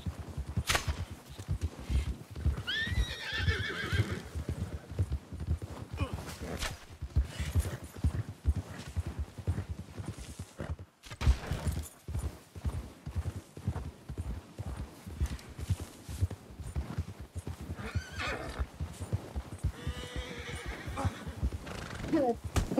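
In the Red Dead Redemption 2 video game, horse hooves clip-clop in a steady rhythm while a horse neighs and whinnies several times. Someone speaks over the hoofbeats throughout.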